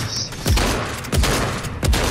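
Gunfire in a multiplayer shooter video game: three heavy booming shots at roughly half-second intervals, loud and close, over a dense noisy background of game effects.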